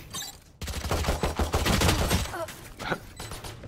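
Video game gunfire breaks out in a loud, close, rapid volley. The shots continue for about three seconds after a brief quiet start.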